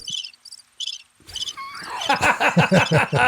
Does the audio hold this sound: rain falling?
no